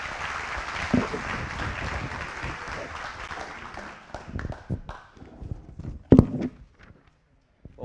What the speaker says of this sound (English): Let's give another round of applause for our wonderful city manager, Sheryl Sculley.